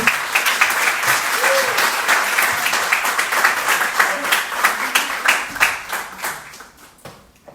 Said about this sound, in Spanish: Vamos a darle un aplauso para darle una bienvenida aquí a Caro Mayer.